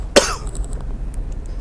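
A single loud, close cough breaks out near the start, followed by quiet room noise and faint small clicks.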